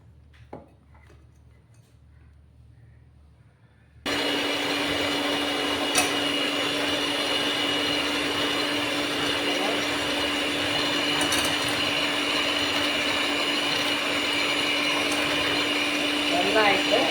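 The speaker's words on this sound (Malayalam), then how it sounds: "നമുക്ക് ഇതിങ്ങനെ ബീറ്റർ കൊണ്ട് നമുക്കിങ്ങനെ അടിച്ചു കൊടുക്കാം" An electric hand beater whips coffee for a cappuccino, starting abruptly after a quiet moment and then running as a steady, loud, continuous whir that holds to the end.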